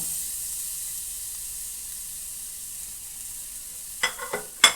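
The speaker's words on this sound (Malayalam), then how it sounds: "ഇതിലേക്ക് ഞാൻ കുറച്ച് വെളിച്ചെണ്ണ ഒഴിച്ച് കൊടുത്തിട്ടുണ്ട് ഇനി നമ്മൾ തേങ്ങ ഇതിൽ മൂപ്പിച്ചെടുക്കാൻ പോകും" Grated coconut frying in coconut oil gives a soft, steady sizzle that carries through, and a few sharp clinks or scrapes sound near the end.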